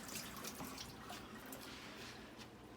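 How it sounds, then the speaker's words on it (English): Hands are rinsed under a kitchen sink tap, a soft steady hiss of running water with faint splashing, quiet and continuous for a few seconds with no talk. "Let me just rinse my hands here."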